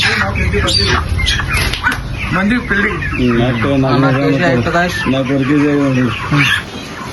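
Chickens cluck in a busy market, loud and close, with repeated harmonic calls layered over a steady crowd din; voices mix in throughout.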